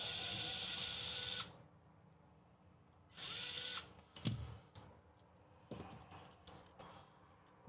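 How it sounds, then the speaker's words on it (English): A small power screwdriver whirs in two short bursts, followed by clinks and rattles of screws being pulled from a TRX4M RC truck's transmission mounting, close up with no talking. "And then remove the screws."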